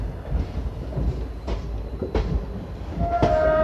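The Chetak Express passenger train rolls into Ajmer Junction, heard from on board as a loud, steady rumble with periodic wheel clacks over rail joints and a faint squeal near the end.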